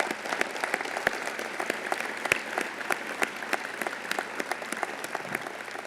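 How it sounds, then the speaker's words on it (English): Steady applause from an audience at a city's State of the City address, dense clapping filling the whole stretch at an even level with a few sharper claps standing out, and no talk over it. "Please give them a huge round of applause."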